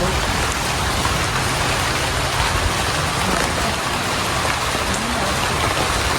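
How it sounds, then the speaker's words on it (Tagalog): Heavy rain pours down steadily outdoors near a team house, a loud, continuous hiss of drops hitting surfaces with no letup and no talking. "Grabe yung ulan."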